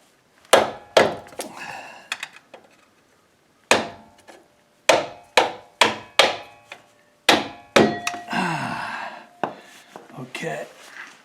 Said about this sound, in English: I had the screwdriver through here and tapping on it and tap that bolt through.